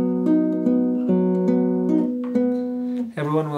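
A tremolo chord with a contrasting tone rings steadily with evenly repeated attacks, then shifts to a brighter, different-sounding harmony near the end.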